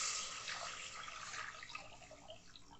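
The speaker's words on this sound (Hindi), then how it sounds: "ये एक पैन में ये 750 ml पानी," Water, 750 ml, poured into a pan in a home kitchen while making almond sherbet syrup: a soft, continuous splashing stream that slowly tapers off over a few seconds.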